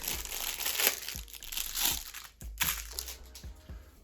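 Plastic bag tucked inside another bag, crinkled and crushed by hand while a lost Ukrposhta parcel is unpacked, giving quiet, close, irregular rustling bursts with no talking.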